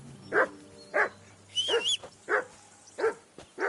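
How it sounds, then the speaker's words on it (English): A dog in the medieval game Kingdom Come: Deliverance 2 barks in a steady series of about six sharp woofs at roughly half-second spacing, mid-distance, over a low game ambience with a faint high whine in the middle. "Henry, call off that damn dog before he wolfs down the last of our meat."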